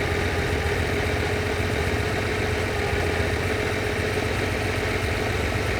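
A Lamborghini 350 GT's engine idles steadily during carburettor tuning, with a continuous low rumble at even loudness and an occasional cylinder drop, no voices.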